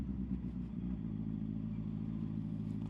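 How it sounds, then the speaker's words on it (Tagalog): A Honda CB650R motorcycle rolls slowly, its exhaust giving a close, steady low rumble with a slight clatter near the start, heard alone. "Sana hindi masyadong maingay sa mic yung exhaust."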